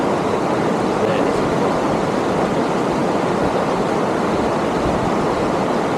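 Sea water at a river mouth in Finnmark, a steady broadband rushing wash of waves and flowing water, loud and unbroken throughout.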